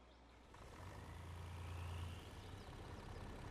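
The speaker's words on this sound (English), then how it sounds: "Listen to the engine on this beast." A deep, rumbling video-game truck engine in Farming Simulator drones steadily and fairly quietly, its low hum swelling slightly midway with a broad wash of mechanical noise and no voices.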